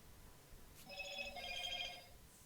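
A telephone rings faintly in the background, a short warbling electronic trill lasting about a second over quiet room noise, with no talking.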